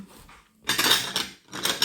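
Teaspoons and forks clatter and clink as they are handled, two bursts of jangling metal close by after a quiet moment, with no talk.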